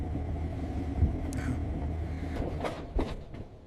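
Steady low rumble of a moving train during a ride, with a couple of faint knocks and clunks over the continuous drone; no talking.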